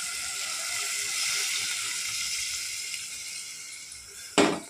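Water pours from a mug into mutton curry cooking in a pot, a steady hiss and splash with sizzling that rises, then a sudden louder splash right at the end.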